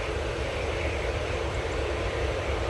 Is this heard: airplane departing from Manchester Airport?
yes